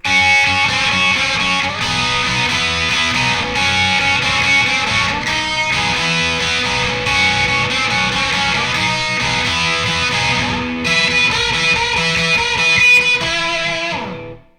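A slow, sustained distorted electric guitar solo from a song with long held notes and bends, played continuously at an even loud level before cutting off.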